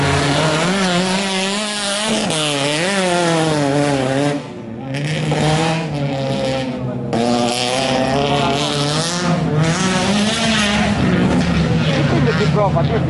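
A gymkhana race car revving hard and accelerating, its loud engine climbing and falling in pitch through repeated gear pulls and close, continuous for the whole stretch, with a brief dip midway.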